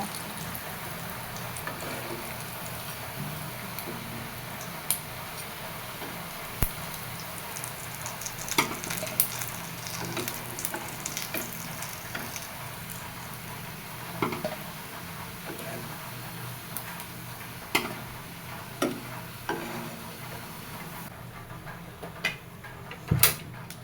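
Fritters (bora) frying in hot oil give a steady, close sizzle throughout, broken by occasional faint clicks and taps of a utensil.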